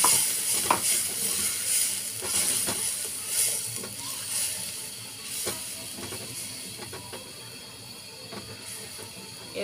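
Chepa shutki and chopped jackfruit seeds sizzle and fry in a pan while being stirred, with steady hissing and intermittent scraping of the spoon, close and continuous throughout with no talking.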